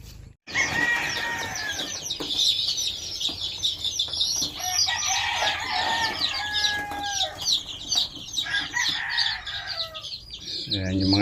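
Chicks four or five days old chirping in a continuous, busy chorus of high peeps, close and lively throughout, with occasional rustling and flapping as they move.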